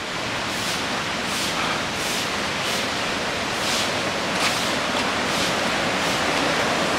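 Steady broadband rushing water roar from a waterfall below, in a forest during the rainy season in Ban Mae Kampong, Thailand, with a constant, unbroken texture and faint periodic swells, heard from a distance with no voices.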